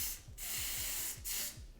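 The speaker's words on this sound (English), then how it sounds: "I'm gonna go in with my black even spray" Black spray is sprayed onto a card for wig lace in two long, close hissing bursts. A short pause separates them, and faint rhythmic clicks from the nozzle run underneath.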